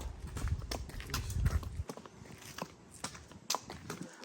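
A sick mare limps along, her hooves clip-clopping faintly and unevenly in an irregular rhythm, with a heavier thud near the start.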